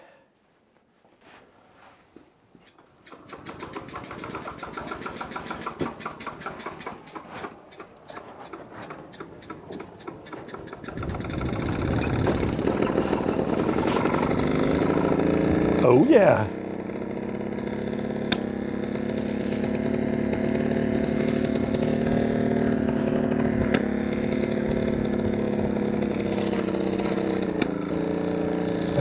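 A vintage Velo Solex 1700 moped with a small 38cc jet starts with rapid ticking, then its engine buzzes steadily and rises in pitch as it pulls away on a test ride, loud and close, with one brief spoken remark.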